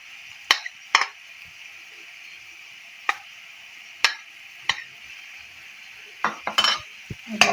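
Vegetables and red chillies are mixed in a pan with a spoon, giving sharp, close clacks and scrapes against the metal at irregular intervals over a steady sizzling hiss.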